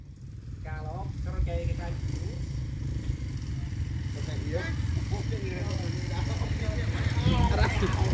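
A 230cc dirt bike engine runs with a steady low rumble and clatter, with someone talking over it throughout.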